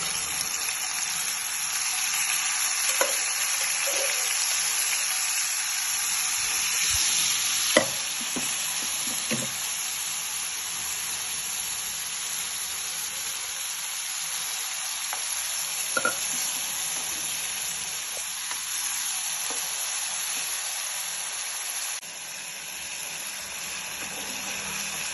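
Red-gravy chicken in a little oil gives a steady sizzle and hiss in the pan. Occasional scrapes and stirring knocks sound above the sizzle, with no voices.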